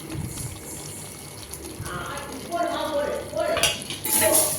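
A spoon stirs kasuri methi into a simmering veg white kuruma, giving close metallic scrapes and light clinks against the pot over a bubbling background.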